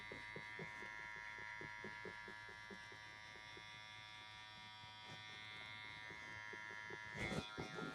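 Electric hair clippers buzz steadily up close while blending a high taper haircut, a continuous motor drone with a brief rustle near the end.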